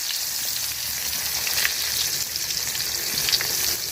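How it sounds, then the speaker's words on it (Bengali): Chopped onion frying in oil left from frying fish gives an even, close hiss of sizzling with small bright crackles and pops, continuous throughout with no talk. "মাছ ভাজার তেলে আমি পেঁয়াজ কুচি দিয়ে দিলাম"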